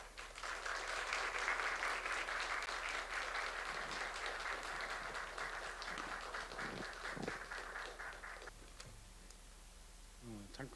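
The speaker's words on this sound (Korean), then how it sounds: "우리 나오실 때 큰 박수로 환영해 주시면 감사하겠습니다" Korean church congregation applauds in welcome during a Sunday service, a dense, sustained wash of clapping that holds steady for most of the stretch before thinning toward the end, with a few scattered voices beneath it.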